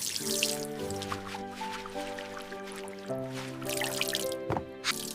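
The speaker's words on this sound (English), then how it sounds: "Please wash your hands before eating." Water drips and splashes during handwashing at home: a few soft drips and wet squishes over a steady, sustained musical tone, with a brighter splash near the end.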